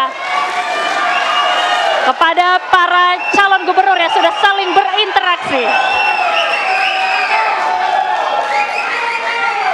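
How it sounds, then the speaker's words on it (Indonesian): Audience applause and cheering at a televised gubernatorial candidates' debate, a steady roar of crowd noise with whoops under a presenter's voice speaking over it throughout. "Boleh kita berikan tepuk tangan sekali lagi tentunya"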